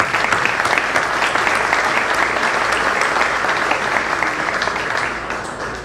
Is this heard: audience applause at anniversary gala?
yes